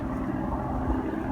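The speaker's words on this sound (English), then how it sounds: "Please excuse the helicopter." A steady low droning rotor hum of a helicopter circling overhead above a field fills the air, continuous and fairly loud, with no voices.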